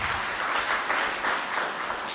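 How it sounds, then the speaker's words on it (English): Sustained applause from an audience at a hotel launch event for a counter-terrorism prosecution guide, a dense, even wash of clapping with gentle swells. "please give yourselves a round of applause"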